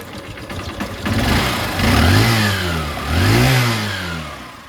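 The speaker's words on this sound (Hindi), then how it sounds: "जो होंडा की जो ओरिजिनल सीबी साइन की जो आवाज़ है ना, वो कितनी प्यारी है यार" A 2023 Honda CB Shine motorcycle engine runs nearby with a steady throaty rumble, rising twice in revs before settling back.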